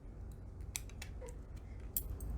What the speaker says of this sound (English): We're just going to cut it off of the belt.